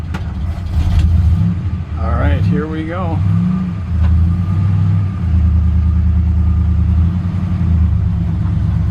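A pickup truck leaving an evening summer car show: the engine rumbles and revs, then settles into a steady drone as the truck drives off, with someone speaking briefly near the start.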